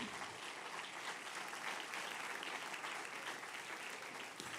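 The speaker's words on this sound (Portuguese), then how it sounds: "E você vai aplaudir, aplauda forte então." Church congregation applauding loudly, a dense steady wash of clapping from many hands that holds for about four and a half seconds with no speech over it.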